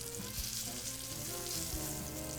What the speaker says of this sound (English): You should be having like a slight sizzle while you're cooking these.